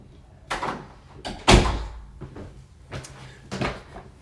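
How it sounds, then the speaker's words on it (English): Someone closes a door at home, with a loud thud and latch noise in the middle, surrounded by softer knocks and rustling handling sounds. "So I'm just going to close the door for my dog."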